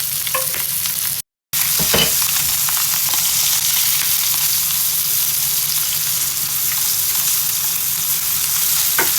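Eggplant frying in a pan, a steady loud sizzle with crackling splatters throughout and a brief dropout near the start.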